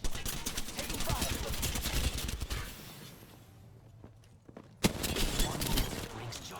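Sustained rapid gunfire from a PC shooter game crackles densely, dies back to a quiet lull, then one sharp report sets off another burst of shots.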